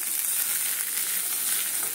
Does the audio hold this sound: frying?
yes